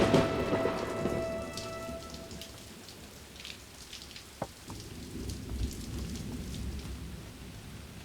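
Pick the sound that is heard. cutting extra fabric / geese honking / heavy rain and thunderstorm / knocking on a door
heavy rain and thunderstorm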